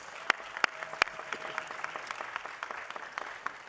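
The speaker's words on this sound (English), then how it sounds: "Please give them a round of applause." An audience applauds at a Los Angeles County Board of Supervisors meeting. There is steady, fairly soft clapping with a few sharp louder claps near the start, heard from some distance in a large hall.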